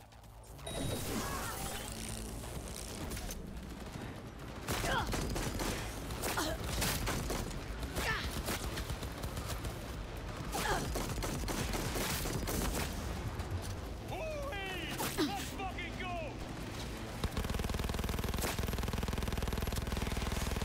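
Gunfire in the video game Cyberpunk 2077: Phantom Liberty, with rapid clusters of sharp shots and mechanical clacks in a dense, loud game mix, over sustained background score and effects.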